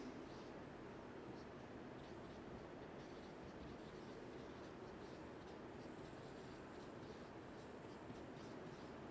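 Marker scratching and squeaking on a board during a chemistry lecture, continuous rubbing strokes at low level over a steady noisy room hiss.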